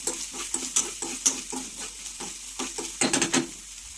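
Finely chopped medium onion frying with cumin in a pan for ragda chaat: quick, regular spatula strokes scrape the pan about every half second over a steady close sizzle, with a busier cluster near the end. No talk.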